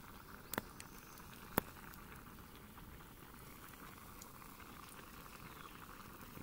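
Cajun maque choux bubbles faintly in a Dutch oven, a soft, steady boiling patter with two brief sharp clicks near the start.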